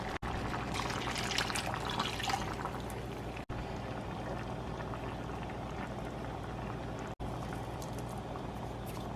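A can of water pours into a pot of meat with tomato sauce and tomato paste, a steady close splashing and gurgling pour that runs for several seconds with brief breaks.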